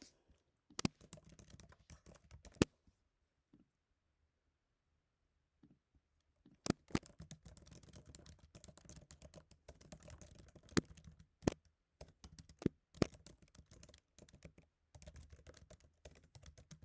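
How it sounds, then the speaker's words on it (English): Rapid keystrokes clatter on a computer keyboard in quick bursts, pausing briefly for a few seconds, then resuming with sharp, louder key clicks. "my typing is excessively loud"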